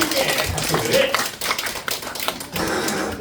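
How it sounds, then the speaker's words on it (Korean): A church congregation at Changdae Church claps in quick, uneven patter, with a preacher's voice continuing over the clapping. "한번 박수 좀 쳐."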